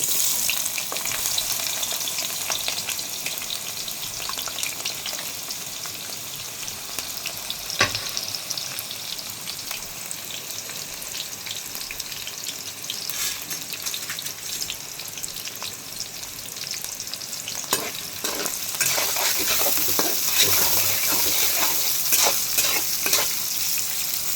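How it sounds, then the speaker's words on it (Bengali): Onion frying in hot oil, a continuous loud close sizzle with occasional stirring scrapes and crackles, growing somewhat louder near the end, with no talking. "আর এখানে তেল গরম হইতেছে, এই যে পেঁয়াজ দিয়ে দিলাম।"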